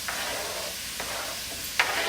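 Carrots and onion sauté in a pot for chicken noodle soup, giving a steady close sizzle broken by a few light scrapes and clacks of stirring.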